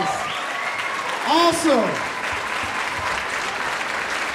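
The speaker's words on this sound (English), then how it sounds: "Come on, big round of applause." An audience at a fashion show breaks into applause and cheering, a crowd clapping steadily beneath a short burst of speech and whoops from people nearby.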